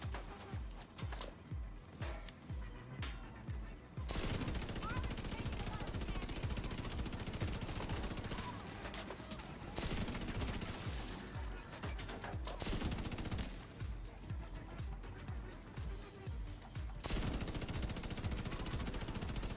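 Turret gunfire rattles in The Division 2 video game, rapid bursts of automatic shots in repeated strings with brief pauses, moderately loud amid game noise.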